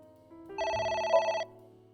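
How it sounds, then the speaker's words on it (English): A telephone rings in the video game AI: The Somnium Files, one clear electronic bell-like ring lasting under a second over a quiet musical backdrop. "It won't stop ringing."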